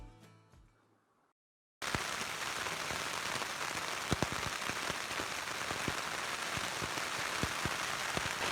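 Rain falls steadily on a tent in the Colorado high country during a deer hunt. It makes a dense, close patter with occasional sharper drops, heard alone after a brief quiet start.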